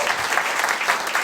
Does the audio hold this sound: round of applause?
yes